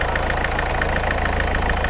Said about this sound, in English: now I will allow the car to idle for 5 minutes